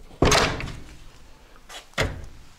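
A wooden shed door swings shut with a solid thump, followed by a second sharper knock as the inside latch catches; two distinct close impacts with quiet room tone between.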